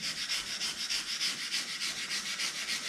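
A brush sweeps back and forth over damp tile grout joints in a steady, hissing scrubbing rhythm, close and continuous with no talking.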